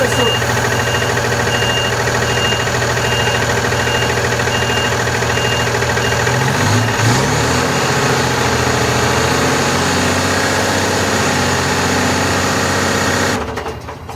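A Volkswagen Constellation 19320 truck engine idles with a steady diesel rumble and a repetitive knocking, loud and close, with a brief disturbance midway and people talking over it.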